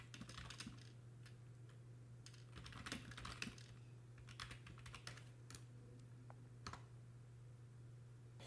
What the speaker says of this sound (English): Then type your text.